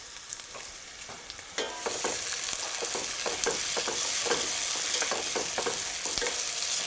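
Peppers and onions, seasoned with salt and a pinch of sugar, fry in a pan with a steady close sizzle, growing louder as they are stirred, with scattered clicks and scrapes of the spoon and no talking.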